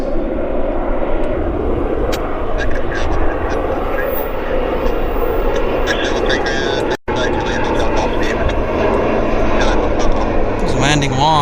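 A Beechcraft 1900 turboprop landing at Vancouver airport, a steady loud engine drone and rumble throughout, with people talking over it.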